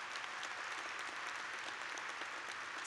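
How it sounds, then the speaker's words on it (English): At a business school convocation ceremony, an audience applauds the graduates' families with dense, even clapping, faint and distant, holding steady for a few seconds with no speech over it. "can we just give a round of applause to the families here today?"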